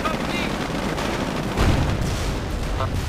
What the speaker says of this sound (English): He's taking too many side armor shots from these Shreks